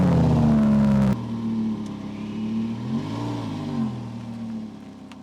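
A car engine, an Audi R8 or a Range Rover, starts with a loud burst, then settles into a steady running drone with a slight rise as the car pulls away, close by with no talk.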